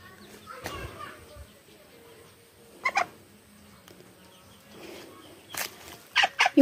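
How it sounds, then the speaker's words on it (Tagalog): Faint high peeping of ducklings comes in short bursts, with scattered chirps near the end over quiet background noise and distant voices. "Yung mga anak ng pato nasa loob."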